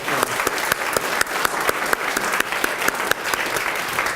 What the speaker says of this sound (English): I just want to give another round of applause to the Grace Tabernacle Church